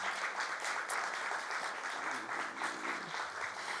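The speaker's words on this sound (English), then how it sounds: "we want to give a big round of applause to our morning keynote speaker, Dianne Festa" An audience at a 2019 conference applauds the morning keynote speaker, a steady wash of many hands clapping that stays fairly even for a few seconds before easing slightly.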